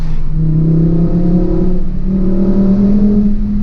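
A 2012 Volkswagen Golf Mk6 with the 2.5 five-cylinder engine revving hard in second gear toward 4,000 RPM, a loud, close, steadily rising engine and exhaust drone heard from inside the car.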